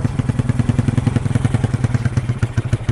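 An upgraded Yamaha Nouvo motorcycle engine idles loud and close after a rev, its firing pulses beating in a quick, slightly uneven rhythm with a throaty, full exhaust note and no talking over it.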